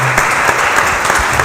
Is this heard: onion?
no